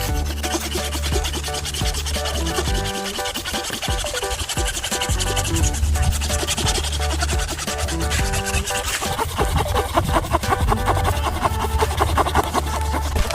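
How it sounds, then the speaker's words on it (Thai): A small keyhole saw cutting wood, with continuous rapid rasping strokes that run close and loud throughout, with no talk over them. "เดี๋ยวผมเลื่อยให้ดูนะครับ"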